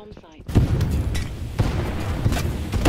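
Many explosions in a video game, a continuous rumbling barrage of booms and blasts with repeated heavy thuds, loud and close, following a short bit of voice at the start.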